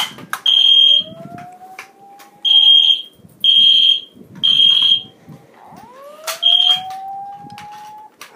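A fire alarm blares in repeated high-pitched beeps, five bursts in a steady pattern, with a rising whoop tone sweeping underneath between them.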